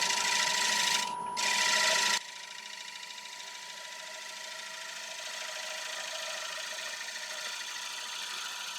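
A wood lathe turns a piece of applewood with a steady hum as a tool cuts, starting with a louder, harsher scraping burst that drops to a smoother, continuous whirring rub.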